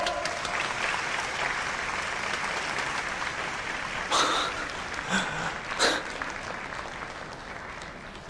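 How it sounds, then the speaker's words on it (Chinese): A room of guests at a formal business gathering claps warmly to welcome a speaker, a sustained, even round of applause with a few louder claps standing out. "下面让我们大家用热烈的掌声欢迎池少爷上台致辞，掌声欢迎。"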